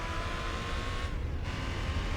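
Game car engine from Gran Turismo 4 holding steady on throttle through a long corner, a constant droning hum at moderate level throughout, with no speech.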